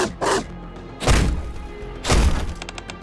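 A door being shaken by attacking dogs in the video game Nikke: three heavy, booming thuds about a second apart, each with a rattling, splintery tail, close and loud with no talk.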